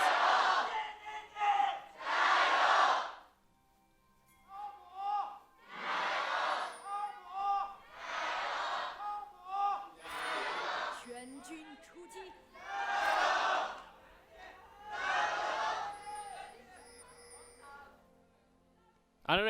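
An esports arena crowd at a League of Legends LPL Spring 2020 match chants in loud, rhythmic bursts of massed voices, each lasting a second or two, with short quieter gaps between them.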